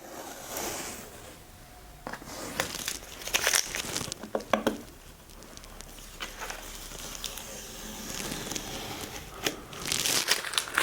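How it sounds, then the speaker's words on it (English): Tape being peeled off a laser-engraved wooden chopping board, giving intermittent crinkling, crackling tears in several bursts near the mic, with quieter handling sounds in between. "We can also peel this off."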